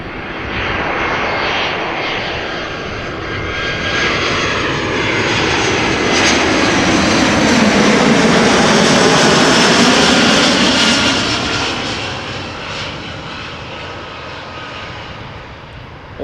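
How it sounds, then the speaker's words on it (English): An ITA Airways Airbus A320's jet engines roar loudly as the plane passes overhead near Amsterdam Schiphol, the rumble swelling to a peak and then slowly fading, with no voices. "The beautiful Azzurro from ITA Airways, a regular A320."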